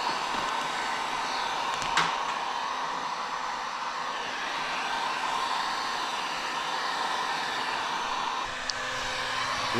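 Heat gun blowing over vinyl wrap as it shrinks back into shape, a steady airy whoosh held at a constant level with a faint click, no voices.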